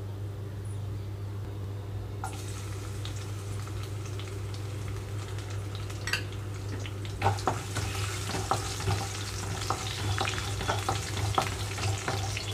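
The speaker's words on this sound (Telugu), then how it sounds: "తాలింపు గింజలు అన్నీ వేగిపోయిన తర్వాత ఇందులోకి కొద్దిగా నలగొట్టు పెట్టుకున్న వెల్లుల్లి వేసుకుంటున్నాను" Tempering seeds and crushed garlic fry in hot oil for a tomato pulusu curry, giving a steady close sizzle with sharp clicks and scrapes from stirring, and no talk.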